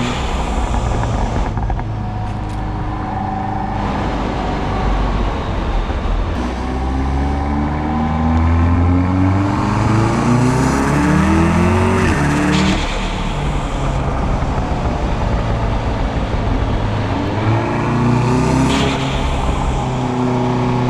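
A modified turbocharged VW Golf drives and accelerates hard, its engine note climbing through repeated rising sweeps with gear changes between them, loud and close throughout.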